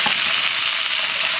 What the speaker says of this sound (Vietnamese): Em xào tép thì em cho miếng màu điều vô.